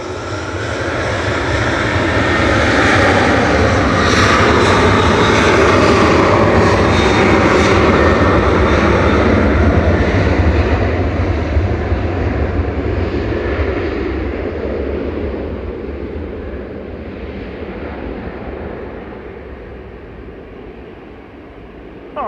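Jet airliner on flight 595 to Antalya taking off from Manchester Airport, a loud sustained engine roar that builds, holds strong, then slowly fades as it climbs away.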